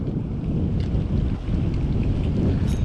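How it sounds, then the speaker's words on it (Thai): An east wind gusting over the sea off a rocky island during squid fishing from a small boat near Pak Meng beach in Trang, a loud continuous blustery rush of wind noise buffeting the microphone. "อุ้ยลมก็มา เป็นลมตะวันออกนะครับ"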